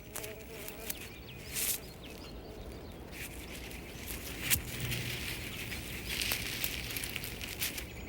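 A bee buzzes close by as a young coyote pup hunts in Yellowstone, the insect's droning hum rising and falling over steady outdoor ambience.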